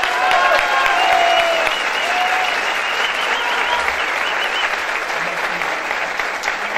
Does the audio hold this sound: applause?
yes